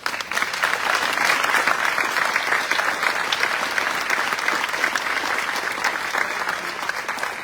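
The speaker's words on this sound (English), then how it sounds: "if you would just stand so we can give you all a good hand and round of applause" Sustained audience applause at a Virginia governor's economic expansion announcement in Pulaski, a dense steady wash of many hands clapping at even volume for the full stretch.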